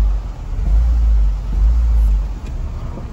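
A 2005 Honda Accord raised on a lift with a P0329 fault code, its engine giving a low steady rumble that swells and eases twice, close by, with no talk.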